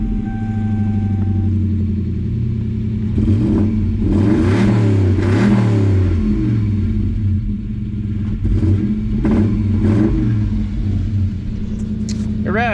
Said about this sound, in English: For now, we want to make sure the motor will rev.